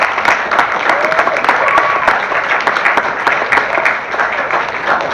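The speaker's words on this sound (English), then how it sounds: "give them another big round of applause" A school audience at Maple Park Middle School's Pathway Presentation Day gives the student Pathway Ambassadors a big round of applause. The clapping is loud, continuous and fills the whole stretch, with faint voices mixed in.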